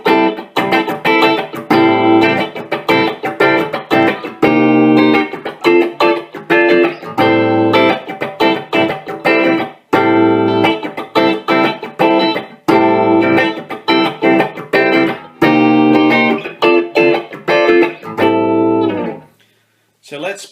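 Les Paul electric guitar with humbuckers in the middle pickup position, volume and tone knobs full, played through a Quilter Micropro Mach 2 amp: loud, close chords and riffs in rhythmic bursts that ring out and stop near the end.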